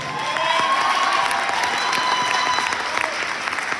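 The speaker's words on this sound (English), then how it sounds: "please give that message a round of applause" A crowd at a bike show breaks into applause, with dense clapping from many people, a few faint cheers mixed in, continuing steadily throughout.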